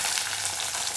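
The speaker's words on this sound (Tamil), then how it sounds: "வெங்காயம், கருவேப்பிலை, பூண்டு மூணும் போட்டு நல்லா வதக்கணும்." Onion, curry leaves and garlic frying in hot oil for a shallot and tomato curry: a steady, loud, close sizzle and crackle throughout, with no voices.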